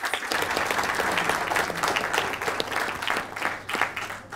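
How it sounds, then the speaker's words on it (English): An audience at the close of a panel debate claps for the panelists, a brisk, fairly close burst of applause with a lively, uneven texture that holds for a few seconds. "Ladies and gentlemen, let's give a round of applause to our panelists."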